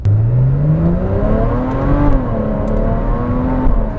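A Porsche 981 Cayman S fitted with F1 headers revs from inside the cabin, its engine note climbing steadily and easing through two smooth gear shifts, loud and continuous throughout.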